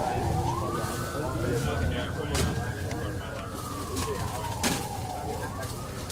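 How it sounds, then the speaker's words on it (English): An ambulance siren sounds while food is being ordered, one long slow wail rising and falling steadily across the whole stretch over background noise, with people talking nearby. "So that's an ambulance."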